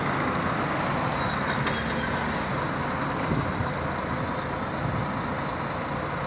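An interstate sleeper-class coach bus passes on a road near Brasília, its steady loud engine and tire roar filling the air without a break.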